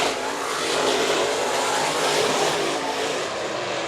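Race cars roar side by side through the turns at Bakersfield Speedway on opening night, a loud, steady, dense engine drone that fills the whole stretch without a break.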